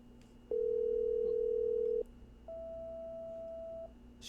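An outgoing phone call rings out in the horror game Killer Frequency: two long electronic ring tones, the first louder, separated by a short pause, clean and steady over a faint background hum, no talking.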